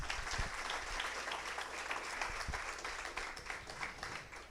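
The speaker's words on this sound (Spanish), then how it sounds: "¿Podemos darle un aplauso a Jesucristo?" A congregation at a Protestant church service breaks into sustained applause, a thick continuous roar of clapping with a low rumble beneath, holding steady before easing slightly at the end.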